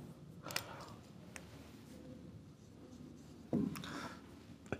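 Marker or chalk scratching on a classroom board as a teacher writes examples, short strokes and taps in bursts with quiet gaps, fairly close.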